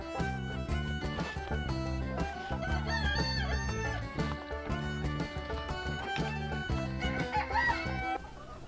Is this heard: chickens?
yes